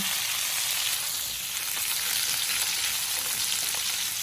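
Loud, steady sizzling of potato bites frying in a hot pan, a dense continuous hiss with fine crackles throughout and no voices.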